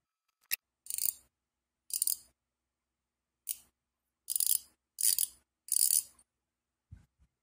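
A Vostok Amfibia Turbina watch mechanism clicks in six quick, crisp ratcheting bursts with short gaps between them, close up and otherwise quiet.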